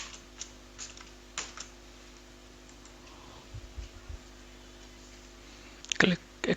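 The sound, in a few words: typing a verification code on a computer keyboard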